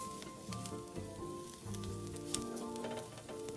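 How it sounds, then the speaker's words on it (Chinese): Minced garlic and preserved radish hitting hot oil in a wok, giving a soft crackling sizzle with scattered pops and light scraping, fairly quiet and steady throughout. "油热后，将备好的蒜末倒入锅内，与菜脯一起爆香。"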